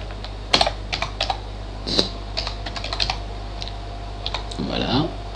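Typing on a computer keyboard while renaming a field in a spreadsheet form, with irregular bursts of close key clicks and taps over a low steady hum, with a voice heard faintly near the end.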